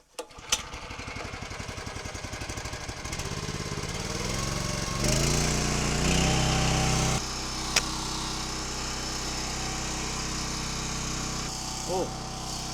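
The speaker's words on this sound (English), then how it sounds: "I think we're ready to turn on the engine here and get started." A small gasoline engine on a wood splitter pulls over and fires up, then runs in a steady, loud drone that shifts in pitch as the throttle changes, with a few clanks along the way.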